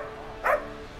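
A police dog barks twice, sharp and close, with a short pause between the barks.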